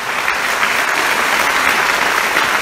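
A church congregation applauds during a sermon, steady dense clapping from many hands filling the whole moment at full volume with no pauses.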